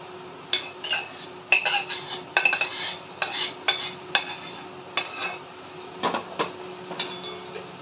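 Govind ladoo mixture being sautéed and stirred in a pan, heard up close as a series of irregular metallic scrapes and clinks from the spoon against the pan, with no voices.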